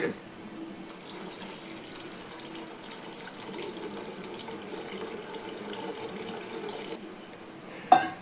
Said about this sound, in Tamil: புளி தண்ணி ஊற்றிக்கிடுவோமா.